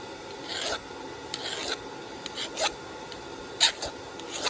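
A metal file rasps in short, sharp strokes across freshly hardened steel skinning-knife blades, bouncing off, each scrape quick and bright, with quiet pauses between the bursts.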